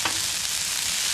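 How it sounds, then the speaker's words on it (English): Vegetables being stirred in butter on a Blackstone griddle, a bright, continuous sizzle with a brief scrape of the spatula at the start, close and fairly loud, with no talk. "let me just mix these up a little bit to get some of the butter all over them"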